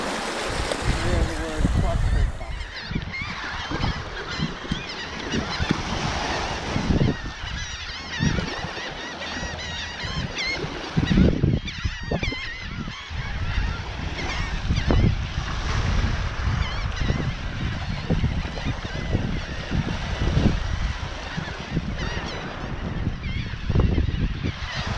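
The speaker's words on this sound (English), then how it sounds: "all these birds that are migrating are like eating up" Migrating geese or similar fowl honk and call continuously on a New Jersey beach at Villas during horseshoe crab spawning season, with wind and surf roaring underneath and some voices mixed in.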